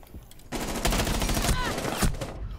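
Rapid automatic gunfire in the video game Rainbow Six Siege, a sustained loud burst of close shots that keeps going for about two seconds after a brief quieter lead-in.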